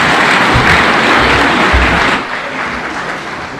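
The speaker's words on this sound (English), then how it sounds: "Another round of applause for all the leaders who have spoken" Crowd applause at a political rally in Kenya backing Raila Odinga's African Union chairmanship bid, loud dense clapping that drops off partway through to a quieter crowd murmur, with no speech over it.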